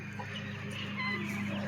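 Chickens cluck softly in a coop, a low murmur of several hens with short clucks and one brief louder call, close and steady over faint background hum.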